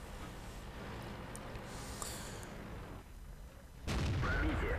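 Artillery fire in World of Tanks during a T-62A battle, a single heavy boom near the end, loud and sudden after a stretch of low game background noise, with no talk over it.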